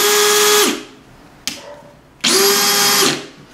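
A Bosch GSB 18V-EC cordless drill whirs loudly up close in two bursts, each spinning up sharply and winding down, with a brief click between them.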